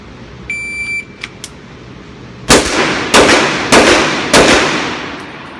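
Four sharp, loud Sig Sauer Nightmare .357 pistol shots fired in quick succession outdoors, each with a brief echoing tail, preceded by a few faint beeps and small knocks.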